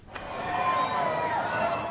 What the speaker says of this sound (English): so many people are cheering